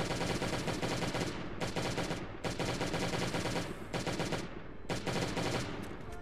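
Loud, dense bursts of rapid machine gun fire, several long volleys separated by brief gaps, sounding like game weaponry close up.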